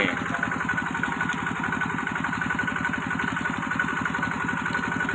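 An engine-driven pump drains a pond so fish can be caught, its motor running at a steady idle-like drone with a fast even pulse, loud and close throughout, with no break.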